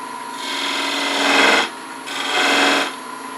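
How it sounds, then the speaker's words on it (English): A detail spindle gouge shaves beads on a wooden candlestick turning on a lathe, giving two steady rasping cuts over the hum of the spinning lathe, close and fairly loud. "detail spindle gouge and start shaving these beads a little bit"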